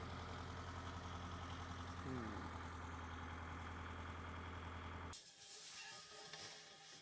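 A farm tractor engine idles with a steady low rumble and droning harmonics, close and continuous for about five seconds before cutting off abruptly, leaving quieter outdoor background.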